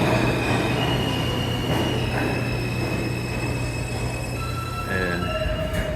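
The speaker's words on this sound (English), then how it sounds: "And this sounds like the E is coming." A Queens-bound E subway train pulls into a New York station, its steady rumble joined by high metallic wheel squeals and ringing rail tones that carry loudly through the whole stretch, with no talking.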